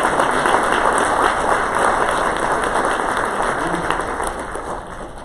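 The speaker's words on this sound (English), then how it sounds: "Let's give everybody a round of applause for Garrett." An audience applauds Garrett at the DSAIA 2019 opening session: dense, sustained clapping fills the room evenly for several seconds before easing slightly.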